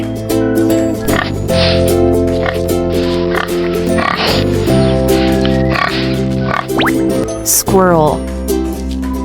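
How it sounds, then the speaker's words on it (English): A pig grunts and oinks repeatedly in short, snuffling bursts, fairly close and loud, with some wet, squealing noises toward the end. "Pig."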